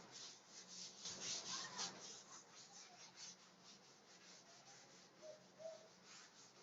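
A classroom board being rubbed clean gives a soft, continuous scratchy swishing with rhythmic strokes. The sound is faint and close, and no one speaks.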